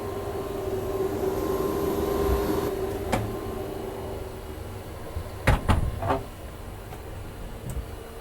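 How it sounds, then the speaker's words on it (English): A watertight door on a 121-foot Benetti superyacht opens with a few sharp metallic clunks and latch knocks over a steady engine-room drone, the loudest thumps bunched a little past the middle. "And this is a watertight door"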